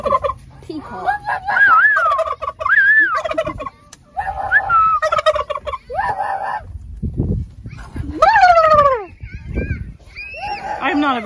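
Turkeys on a farm gobble loudly and repeatedly, with rapid warbling calls close by, while people talk between the bursts.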